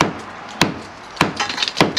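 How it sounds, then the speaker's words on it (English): A hammer knocks out tough clay bricks from brickwork around a window: three sharp, evenly spaced blows about half a second apart, close and loud over faint background noise. "Look, keep using your hammer."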